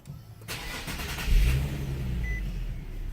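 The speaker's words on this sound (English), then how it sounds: "the first thing I'm going to do is start the engine" A 2015 Nissan 370Z engine cranks and fires, catching with a sudden surge, then settles into a steady, close idle.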